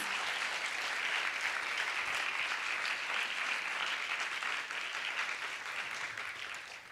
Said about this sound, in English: Another round of applause for Tejashree and the musicians